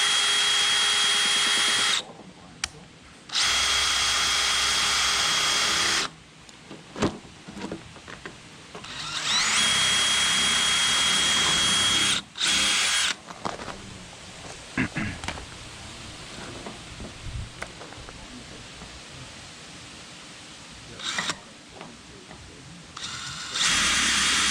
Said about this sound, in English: I don't have my punch here, so I'm just gonna drill these